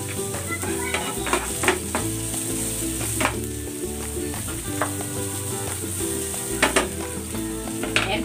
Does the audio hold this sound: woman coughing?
no